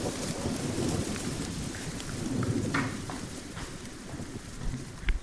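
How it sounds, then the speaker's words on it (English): Steady rain falls outside a garage during a thunderstorm, with a constant hiss of drops on surfaces and low rumbling thunder beneath. "It's raining."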